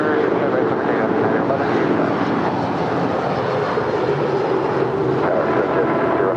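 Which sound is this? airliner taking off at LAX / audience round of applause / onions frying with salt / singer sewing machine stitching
airliner taking off at LAX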